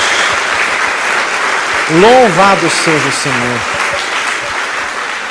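Applause from a church congregation, a steady mass of clapping that runs throughout while a voice speaks briefly over it.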